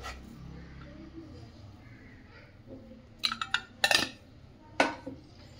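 Raw mango dal ingredients mixed in a bowl: a quiet low hum, then a few sharp metallic clinks and scrapes of a spoon against the bowl.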